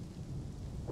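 Thunderstorm in a video game, a steady low rumble of thunder with rain washing over it, loud and continuous for under a second with no voices.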